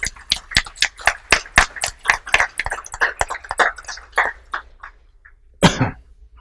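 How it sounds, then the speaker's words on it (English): Sparse handclaps from a small audience at a panel on Uyghur experiences in Chinese camps, distinct close claps in an uneven rhythm that thin out and stop, followed by a single cough or throat-clear. "they deserve a big round of applause"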